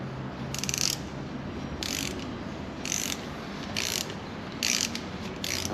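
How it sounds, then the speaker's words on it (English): Six short, evenly spaced bursts of metallic ratcheting as a 10mm ratchet wrench loosens the clutch cable fitting on a motorcycle, each click run lasting about a third of a second over a steady background hum. "So we use a 10mm wrench to loosen it."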